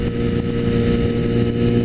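A Suzuki GSX650F motorcycle engine runs with a steady, close, rumbling drone that holds an even pitch throughout.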